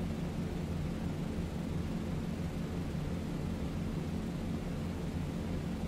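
Engines of a B-17 Flying Fortress in a flight video game roar as power is fed for takeoff, a steady, dense droning rumble that holds evenly throughout without talk.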